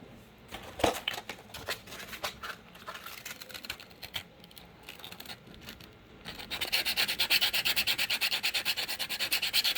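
Sandpaper rubbing back and forth on a Darth Maul horn prop, close rhythmic scratchy strokes, sparse at first and then a fast, even, louder run of rasping passes toward the end.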